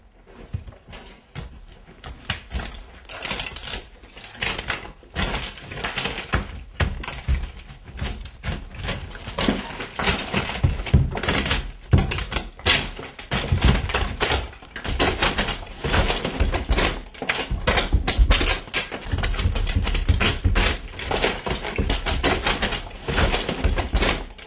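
Lath and plaster being pulled off a wall with hooks: a dense, continuous clatter of cracking wood strips, scraping and falling plaster debris, loud and close throughout.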